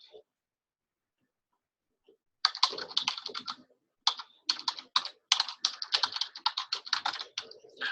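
Computer keyboard keys typed in short quick bursts, close and fairly quiet, as an email address is entered, with brief pauses between runs of clicks.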